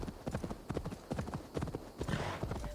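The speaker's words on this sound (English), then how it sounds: "not all video game horses are created equal" Horse hooves clip-clop in a video game, a steady galloping rhythm of close, crisp beats that continues throughout.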